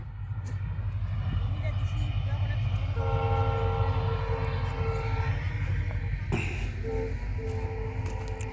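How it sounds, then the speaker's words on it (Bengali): A train rumbles past a rural village beside maize fields with a low, continuous roar, and a horn-like tone sounds partway through; people talk faintly underneath. "ট্রেন যাচ্ছে"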